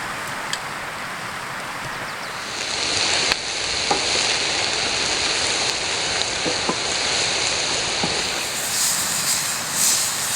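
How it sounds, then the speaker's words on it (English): A campfire on a Namakwa 4x4 eco trail crackles steadily, a dense sizzling hiss broken by scattered sharp pops, close and fairly loud with no talking. "The fire is already crackling"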